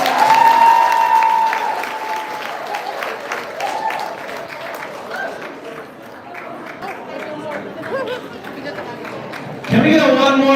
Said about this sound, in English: Can we get one more round of applause for that man right there?